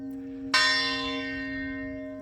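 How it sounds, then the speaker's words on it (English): A church bell, newly repaired after decades of silence, strikes once with a loud bright clang and rings on in a long, slowly fading resonant hum. "and there's the bell."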